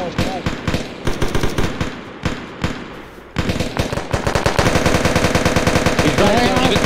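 Gunfire during an infantry firefight on deployment with the 1st Battalion, 503rd Infantry Regiment: loud, close rapid automatic bursts and scattered shots cracking in uneven clusters, with soldiers' voices mixed in.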